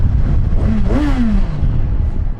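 Kawasaki Versys 1100 inline-four motorcycle engine revved up: a loud, close rising whine that peaks and then falls back, over steady engine rumble and wind noise.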